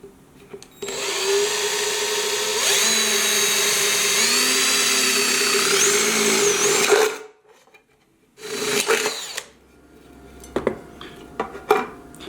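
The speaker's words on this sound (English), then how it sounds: "on every single one of those dots, you just drill a hole" A power drill bores holes in metal, running steadily for several seconds with a high whine and metallic grinding, stops, then drills again in a short burst, followed by scattered clanks.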